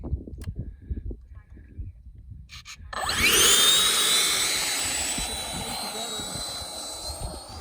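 A radio-controlled F-22 model jet throttles up for takeoff: quiet outdoor murmur and voices give way at about three seconds to a loud, sustained turbine whine with rising high tones that stays strong to the end, with people talking over it.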